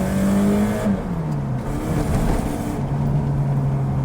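A 1997 Mitsubishi Pajero Junior engine revs loudly up close, its pitch rising and falling through a couple of throttle blips before settling into a steady higher drone.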